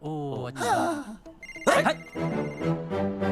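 A mobile phone ringtone sounds in a Hindi action comedy film scene, a melodic ring carrying over strained vocal groans and sighs, fairly loud and close.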